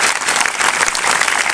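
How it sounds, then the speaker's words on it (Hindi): Audience applause in a school gathering, a steady dense wash of many hands clapping at once, loud and continuous with no voices standing out. "तो तालियों में मेरे बच्चों इतनी कंजूसी।"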